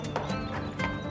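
Hooves of a Percheron horse clip-clop on a city street, several close, fairly loud, evenly spaced strikes with a short whinny-like tone mixed in.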